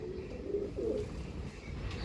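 Cooing from a flock of pigeons kept for sale, soft, low murmuring calls in a couple of brief bursts over faint background noise, no voices.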